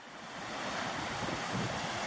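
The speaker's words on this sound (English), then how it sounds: "get some sounds of the waves crashing here" Waves crash and wash onto the Lake Michigan shore near a lighthouse on a windy day, a dense steady roar swelling slightly with wind buffeting the microphone and no voices.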